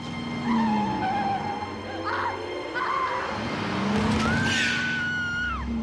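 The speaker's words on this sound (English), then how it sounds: "As Clara turns the car." A car swings through a turn with its tires skidding, producing high, drawn-out squeals that rise and bend in pitch over a low engine rumble, several squeal bursts across a few seconds.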